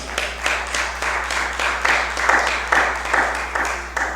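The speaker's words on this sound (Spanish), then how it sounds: "Denle un aplauso a Jesús." A church congregation claps in steady bursts of applause, moderately loud, with a faint hum underneath and no clear talking.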